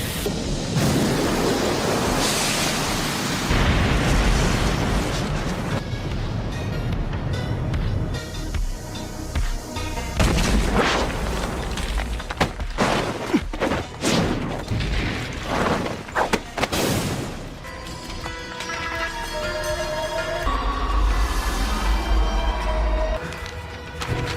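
A Fire Style jutsu explosion in a Naruto Shippuden fight scene roars as a loud, sustained rumbling blast with crackling bursts, followed by scattered impacts and booming swells, with no one talking.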